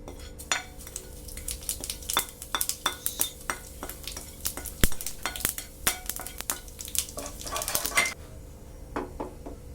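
Cumin seeds hit hot oil in a pan, giving a loud run of crackling pops and clinks with bursts of spitting that thin out toward the end, and no one speaks.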